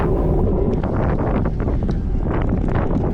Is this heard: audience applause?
no